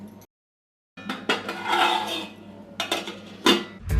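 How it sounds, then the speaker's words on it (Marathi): A metal lid set onto a pot of Konkan-style raw mango panha with jaggery, giving a few close clattering knocks and scrapes of metal against metal after a short silence, with no voices. "याच्यावरती आपण झाकण ठेवूया आणि अर्धा तास मुरवत ठेवूया"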